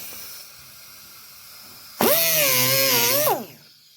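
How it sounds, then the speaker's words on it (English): A power tool trims a body panel on a 1956 Chevy during a four-door to two-door conversion. One loud, wavering whine lasts just over a second, then cuts out, over a quiet workshop background. "I'm just going to trim that right now."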